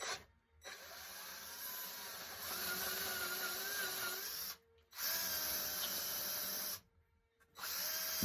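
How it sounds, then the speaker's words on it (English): A power drill with a 7/32 bit whines loudly and steadily in several bursts into a wall, stopping briefly between runs, close up with no talking. "This is a 7/32 drill bit."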